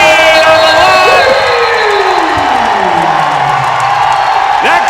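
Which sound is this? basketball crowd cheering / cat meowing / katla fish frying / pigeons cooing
basketball crowd cheering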